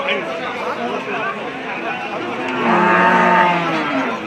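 Cows of various breeds low and call amid a busy crowd of chattering voices at a cattle market in Nilphamari, a dense, noisy scene with the animal sounds mixed into the din.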